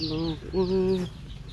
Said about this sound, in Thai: โอ้นี่มันไก่เล็ก